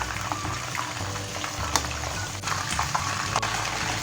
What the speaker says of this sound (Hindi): तो मीडियम आंच पे हम इन्हें करते जाएंगे फ्राई